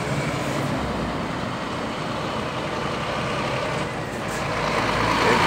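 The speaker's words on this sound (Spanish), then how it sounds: "Volkswagen es chasis que entra al pueblo" Volkswagen truck chassis driving into a town, a steady loud diesel rumble close by that swells near the end, with faint beeping in the mix.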